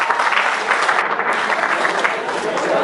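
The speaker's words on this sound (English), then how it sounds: "Can we have a big round of applause for all the participants?" A large audience applauds steadily, a dense continuous patter of many hands clapping at even loudness throughout.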